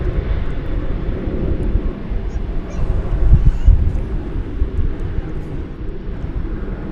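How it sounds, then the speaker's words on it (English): An Alaska Airlines Boeing 737-9 at DFW Airport gives a steady, broad jet engine roar that swells slightly midway, loud and continuous outdoors. "It is Alaska Airlines. Flight 543, a 737-9."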